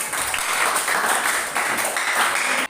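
Students in a class applaud together, a loud, fairly close round of clapping that swells in pulses and stops abruptly at the end.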